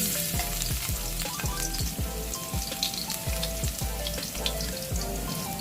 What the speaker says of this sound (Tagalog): So muna ko nalagay yung ating mantika. Ayan. Muna nating lalagay yung ating bawang.